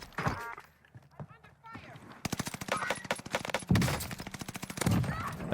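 Bursts of rapid automatic fire in Call of Duty Warzone, crackling near and loud in quick volleys, with a player's voice talking over the shooting.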